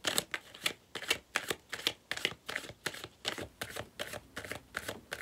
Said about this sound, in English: I'm going to pull one more card on that.